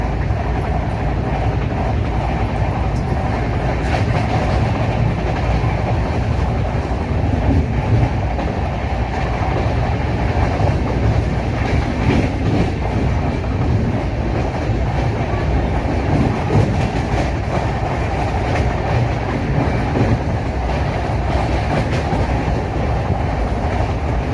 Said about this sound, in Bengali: ট্রেন মারাত্মক টানছে।